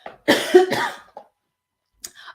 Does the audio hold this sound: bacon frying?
no